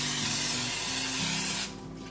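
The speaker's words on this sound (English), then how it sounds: "I'm gonna spray it with the olive oil spray" Olive oil cooking spray hisses into a silicone loaf pan in a continuous burst of just under two seconds, then cuts off, leaving a quiet kitchen.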